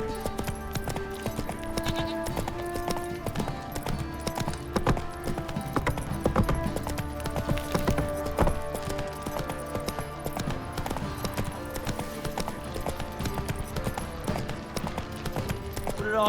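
Roach, Geralt's horse in The Witcher 3, clip-clops steadily along with continuous hoofbeats under a busy game soundscape, with occasional talk and music layered over the trotting rhythm.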